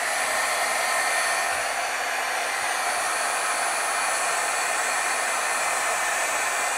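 Heat tool blowing hot air to heat-set foil and white ink on a stamped scene, a loud, steady close whooshing hum running unbroken throughout with no talking.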